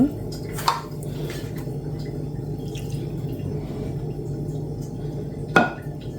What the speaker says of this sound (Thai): นาราจะเติมน้ำสองถ้วยตวง